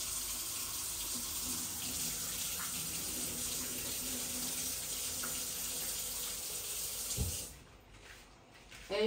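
Tap water pours steadily into a sink as sago pearls are washed, a close continuous hiss that cuts off near the end with a few faint clunks.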